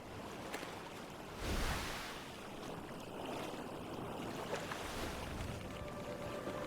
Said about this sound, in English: the canoe just speeds right through the water